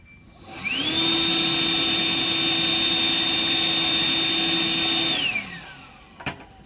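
A battery-powered leaf blower spins up, holds a loud steady whine and roar for about four seconds with a weighted, silver-painted Coke bottle inside, then winds down, followed by a couple of small knocks.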